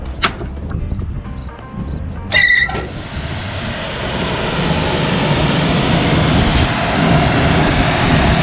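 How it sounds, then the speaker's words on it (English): Blower motor on a Carrier rooftop HVAC unit spinning up after a few clicks and a brief clatter, settling into a steady, loud broadband whoosh and hum of moving air that builds slightly and holds. "We're gonna run the blower and make sure our rotation is good before we check that amp draw."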